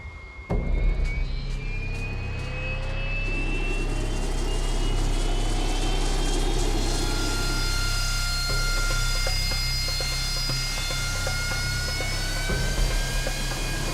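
Aircraft taking off from a Navy warship's deck, a steady loud jet roar with rising whine tones that builds and holds throughout, heavy low rumble underneath.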